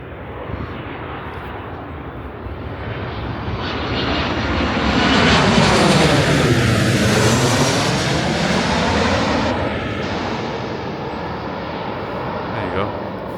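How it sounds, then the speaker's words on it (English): A fixed-wing airplane passes overhead, its engine roar swelling to a loud peak mid-pass with a sweeping Doppler shift, then fading away as it recedes. "hang on, we have another plane"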